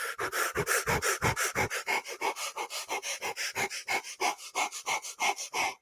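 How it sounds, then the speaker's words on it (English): A person breathes fast and shallow to drive up heart rate, giving a rapid, loud, close-up series of roughly two dozen rhythmic huffing breaths with no talking. "I'm going to breathe fast and shallow, drive my heart rate up"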